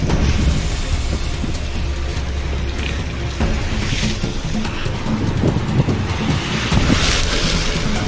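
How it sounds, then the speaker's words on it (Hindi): Sea waves surge and wash continuously at Gadani Beach near Karachi, a steady roar of surf mixed with buffeting wind across the microphone, with no voices. "बड़ा पानी उछल रहा है"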